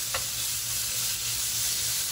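Meat sizzles steadily in a pan over high heat while bánh xèo crepes with cheese and ham are cooked. The hiss of hot oil is loud, close and continuous, with no talking.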